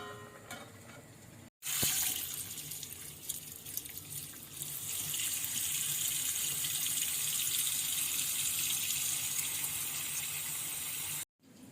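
Cold tap water gushes into a kitchen sink over cooked beetroot. The flow starts abruptly, runs as a steady, close splashing stream for about ten seconds, then cuts off.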